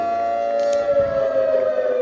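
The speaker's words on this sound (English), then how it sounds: "The air raid siren." An air raid siren wails over a high school football stadium, loud and close to the public address speakers, one steady sustained tone with a faint crowd beneath.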